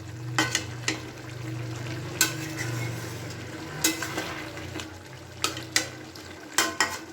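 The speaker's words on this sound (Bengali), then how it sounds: "এবার একটু নাড়াচাড়া করে নেবো খোলা অবস্থায়" Amudi fish curry with freshly chopped coriander leaves is stirred in an open pan, giving soft scraping clicks from a spoon at irregular intervals over a steady low simmer, close by with no talking.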